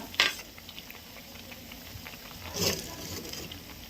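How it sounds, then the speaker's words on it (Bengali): Bread chops fry in oil over a wood-fired stove, giving a soft, steady sizzle and patter with a couple of brief clinks. "একটু ভাজাতে দেবো এই যে ভাজাছে দেখতে পাচ্ছ"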